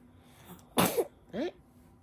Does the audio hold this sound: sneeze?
yes